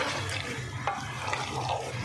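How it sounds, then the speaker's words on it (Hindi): Two litres of water are poured into a pot of aloo chicken rice pulao, making a steady rushing gush with faint splashes, continuous and fairly quiet throughout. "इसमें मैं 2 लीटर पानी डाल रही हूँ"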